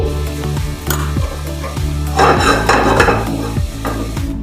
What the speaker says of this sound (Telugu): వాము బాగా మాడనివ్వాలండి ఎందుకంటే అందులో స్మెల్ మనకి బయటికి రావాలి